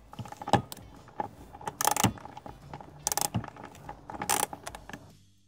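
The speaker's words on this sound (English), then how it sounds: "I'm gonna loosen up this bolt using a 10 millimeter socket on a socket wrench" A 10 mm socket on a ratchet wrench loosens a bolt on a Ford F-150 EcoBoost, with bursts of metallic ratcheting clicks and clanks in several separate spurts, close and fairly loud, without talk.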